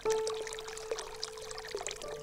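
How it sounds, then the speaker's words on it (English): Water pours and trickles out of pipes into a small reservoir fed by a traditional suranga tunnel, a steady close splashing with faint tonal ringing and a few brighter drips over about two seconds. "Little by little, the water oozes out from its natural veins and is diverted through pipes"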